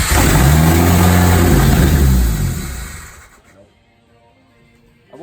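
A car engine roars loudly with strong revving for about three seconds, then cuts out and fades to near silence, with only a faint brief sound returning at the end.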